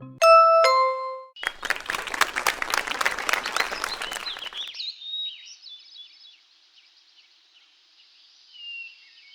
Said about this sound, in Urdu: ٹیچر، اسٹوڈنٹس سے کہیں کہ وہ ریڈیو سے تالیوں کی آواز سنیں